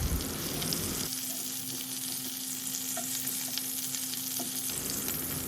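Chicken pieces frying in hot oil for butter chicken, a steady broadband sizzle with a low hum running through it and no talk.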